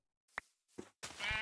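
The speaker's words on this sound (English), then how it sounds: "Where'd that sheep go? There was a sheep here." Three short sheep bleats from the Minecraft video game come in quick succession, fairly close and clear, the last one longer and fuller, with no talking over them.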